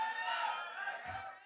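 Spectators at a celebrity cricket league event let out a short, faint collective shout, a sustained mass of voices lasting just over a second.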